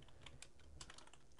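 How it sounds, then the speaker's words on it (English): Rapid clacking of a loud computer keyboard, close up, with irregular bursts of keystrokes and no voices. "you hear my keyboard, it's because my keyboard's loud, so ignore that."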